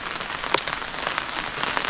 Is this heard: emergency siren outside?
no